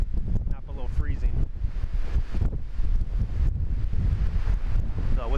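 Strong wind roars at a lakeshore campsite in Split Rock Lighthouse State Park, Minnesota, buffeting the microphone in a steady, loud rush while a person talks over it.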